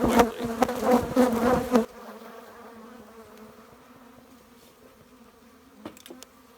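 Dense, loud buzzing of honeybees swarming close around a suited beekeeper adding honey supers, for about two seconds, then dropping to a quieter, more distant drone.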